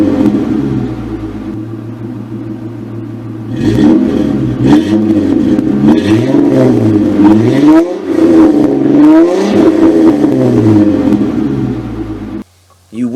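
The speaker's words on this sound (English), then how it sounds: "The car sounds almost like a V8 at idle, and at redline it sounds like a swarm of angry bees." A Ford Mustang V6 fitted with a stainless steel bolt-on exhaust and bolt-on intake revs up and down repeatedly, a loud, close engine note that rises and falls in several sweeping blips before dropping to a low idle.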